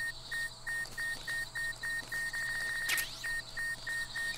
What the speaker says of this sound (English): I've got a mind detector, but I'm not sure if the beeping actually alerts guard or not.